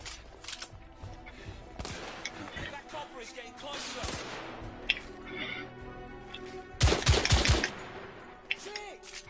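Gunfire in The Order 1886 comes as scattered single shots and short bursts amid game ambience, with a sharp loud volley near the end and voices talking in between.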